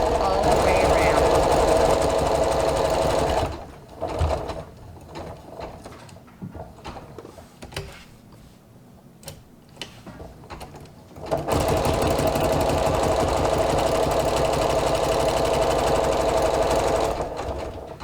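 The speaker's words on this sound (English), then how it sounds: "you just sew all the way around the edge of your piece." A sewing machine stitches a border around the edge of a quilted fabric piece, running loudly and steadily, pausing for several seconds of quieter handling clicks, then resuming its rapid continuous whir.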